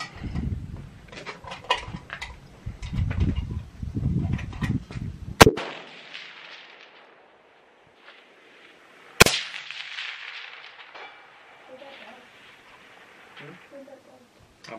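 Two sharp, loud long-range rifle shots at 1,000 yards ring out several seconds apart, each cracking suddenly and trailing off, with people talking quietly before the first shot.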